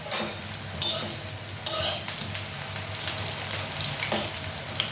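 Green chillies and leafy greens fry in a pan, with a steady close sizzle broken by a few sharp bursts of stirring and scraping over about five seconds, and no voices.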